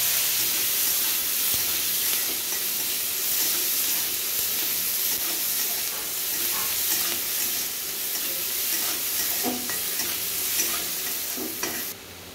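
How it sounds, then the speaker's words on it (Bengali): Chopped onion frying in hot oil for an egg curry, a loud, continuous hissing sizzle close by with scattered clicks and scrapes of stirring, easing slightly near the end, with no voices. "পেঁয়াজটাকে ভালো করে আগে লাল লাল করে ভেজে নিতে হবে।"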